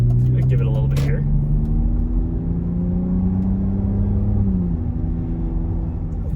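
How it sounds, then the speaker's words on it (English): A BMW E39 5 Series wagon with an aftermarket exhaust gives a low droning engine note that rises and falls with revs, and a voice speaks briefly near the start. "it has an aftermarket exhaust, which if you know me, you know I'm not really particularly a fan of something like that"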